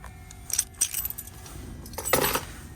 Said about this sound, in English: Of course, take the key out.